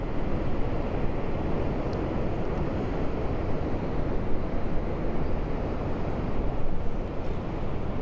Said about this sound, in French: ce sont des vagues assez importantes ici